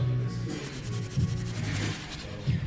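A Scotch-Brite abrasive pad scrubs a machined billet metal cam trigger bracket, giving a close, continuous rough rubbing with short pulsing strokes throughout.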